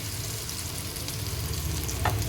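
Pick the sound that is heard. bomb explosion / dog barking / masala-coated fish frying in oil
masala-coated fish frying in oil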